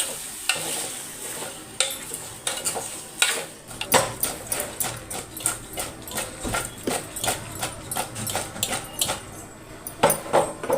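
Spices with turmeric and salt fry in oil while a spoon knocks and scrapes the pan in quick rhythmic strokes over a soft sizzle, close by and without speech.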